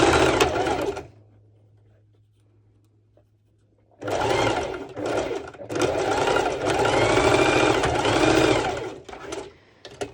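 Sewing machine running a straight stitch on elastic for a sporty twisted top, a loud whirring motor burst, a pause with a low hum, then a longer sustained run of rapid stitching.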